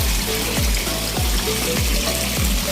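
Water pouring to refill a drained tilapia fish pond, a loud, steady rushing splash that runs without a break, with faint repeating low thumps in the background.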